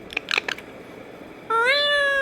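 A pet parrot imitating a cat, first a few short scattered chirps, then one loud drawn-out meow-like call rising and bending at the end, close and clear with no talk.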